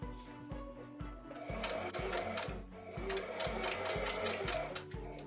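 A sewing machine stitches dress fabric around a curve with a steady mechanical whir and rapid needle chatter. It pauses briefly and then resumes, close and continuous, with no one speaking.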